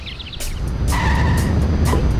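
Cartoon car in The Simpsons Hit & Run, a PC/PS2 video game, revs and skids. Its tires squeal for about half a second, and a steady engine drone runs throughout with no talking.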